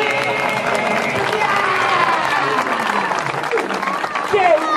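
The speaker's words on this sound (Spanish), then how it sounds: "¡Vamos a aplaudir!" A crowd at a magic show in Alcorcón claps and cheers, dense applause mixed with shouts and excited voices rising toward the end.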